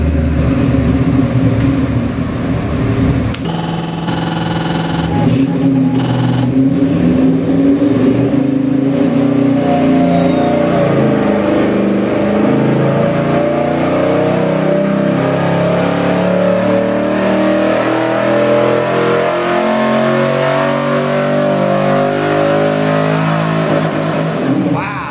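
An LS 441 cubic inch crate engine rated at 670 horsepower revs loud and close, with sustained high-rpm roaring and stuttering bursts against the rev limiter over about 25 seconds.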